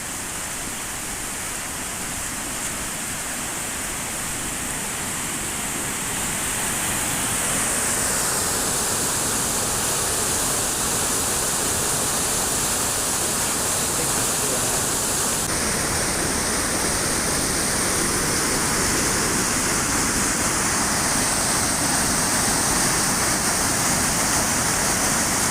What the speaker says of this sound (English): here's a quite spectacular waterfall,